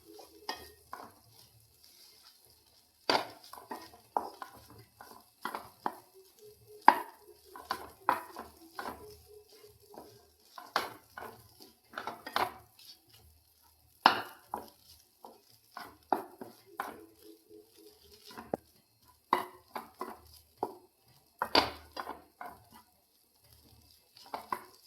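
Egg puttu batter stirred and mixed in a bowl, with repeated scraping and clinking strokes of a spoon against the sides in irregular bursts, close by, over quiet pauses.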